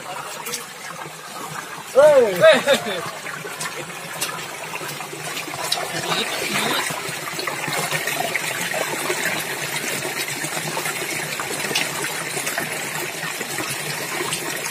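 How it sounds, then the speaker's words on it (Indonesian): Spring water flows straight out of its source in a steady trickling stream with a brief splashy burst early on, while people talk over the running water. "Ini keluar dari mata airnya langsung dari bawah sana"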